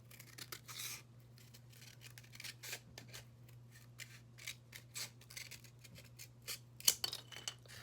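Scissors snipping through a styrofoam cup along a long line, a string of quiet crisp cuts and scratchy tearing scrapes close by over a low steady hum.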